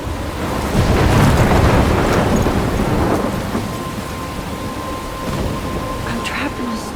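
A thunderstorm in the video game Life is Strange, with a loud rolling rumble of thunder over steady heavy rain that eases a little toward the end, with no talking.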